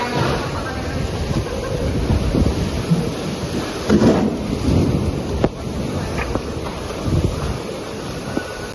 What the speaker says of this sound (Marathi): कसला डेंजर पाऊस पडत आहे